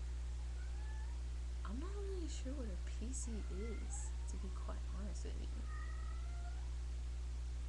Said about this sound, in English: What is up with my cat?